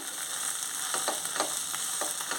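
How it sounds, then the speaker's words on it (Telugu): Tomato pieces fry and sizzle in a pan for a tangy taro-root stew, with a constant close hiss and a few rhythmic stirring scrapes. "ఇప్పుడు టమాటీ ముక్కలు వేసుకోవాలి మళ్ళీ ఒకసారి కలుపుకొని మూత పెట్టుకొని"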